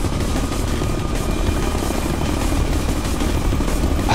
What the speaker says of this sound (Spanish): Ay, que yo estaba disparando, era mi helicóptero, ¿no?